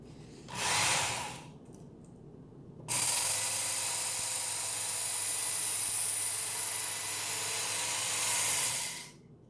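A Work Sharp Ken Onion Edition belt sharpener runs with a coarse belt as a knife blade is dragged across it, a short burst first, then a long, loud, steady abrasive whir that cuts off abruptly.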